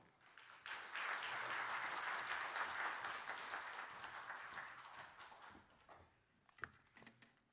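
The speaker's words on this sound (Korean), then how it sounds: "나오실 때 큰 박수로 환영해 주십시오" An audience breaks into loud, sustained applause that swells and then fades, leaving a few scattered claps and faint room noise.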